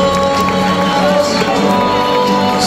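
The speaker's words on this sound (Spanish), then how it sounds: "No dejen de aplaudir" A crowd at a garden evening performance cheers and shouts with sustained, loud, continuous noise, whoops and voices blending into one steady wall of sound with little clear clapping.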